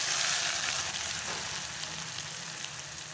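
Chopped onion hits hot oil with seasoning in a pan, giving a loud, even, continuous sizzle that eases slightly as it settles, with no voices.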